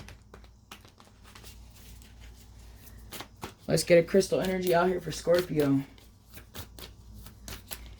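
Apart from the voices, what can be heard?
shuffling tarot cards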